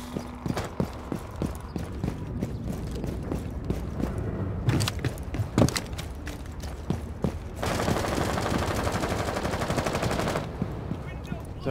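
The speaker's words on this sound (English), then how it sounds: "Is that firing in or out?" Gunfire in the Rainbow Six Siege beta on the Kanal map, with scattered sharp shots and short bursts amid clattering game noise, a steadier hiss near the end, and faint voices now and then.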